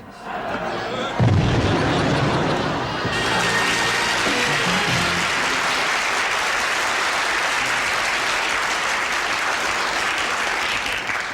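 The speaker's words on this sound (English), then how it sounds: "Something very clean about an explosion." A comedy-sketch dynamite blast erupts with a sudden loud boom, then a long, dense roar of debris and rumble that stays loud and steady for several seconds.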